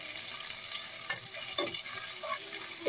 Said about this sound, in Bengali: এখন আমি এটাকে নেড়ে চেড়ে মিশিয়ে নিচ্ছি।